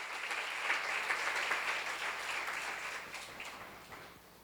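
Audience applause in a church seminar, a dense steady patter of many hands clapping at moderate distance that holds for several seconds and tapers off toward the end, with no talking.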